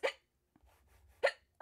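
Two sharp hiccups about a second apart from a woman during a live painting session, each a short voiced burst, with a quieter third starting at the end and faint low background noise between them.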